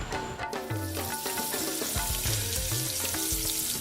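Croquetas deep-frying in hot oil, a dense, loud bubbling sizzle that holds steady throughout, with small clinks and shifts beneath it.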